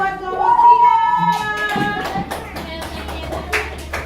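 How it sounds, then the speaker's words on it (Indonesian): A small audience in a group session claps for a presenting team. A faint tone at the start gives way to scattered, uneven handclaps with a few sharper claps near the end. "Beri tepuk tangan yang besar buat kelompok 3."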